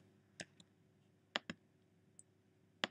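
Sharp computer mouse clicks come close and clear, single and in a quick pair, spaced out over quiet room tone.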